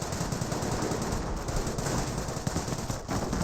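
Rapid machine gun bursts rattle dense and continuous in a Company of Heroes battle against Panzer Grenadiers, loud and unbroken, with no voice over them.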